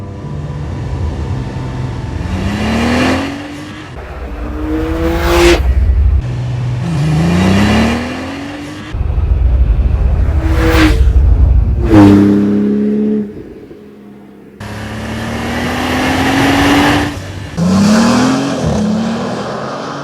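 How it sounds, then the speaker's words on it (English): A 2026 Porsche 911 Turbo S with a titanium sport exhaust on its boxer engine revs repeatedly, each loud, close burst rising sharply in pitch and then falling away between pauses. "A new Sport Exhaust System features a muffler and exhaust tips made of titanium, which save weight while enhancing both aesthetics and sound of the car."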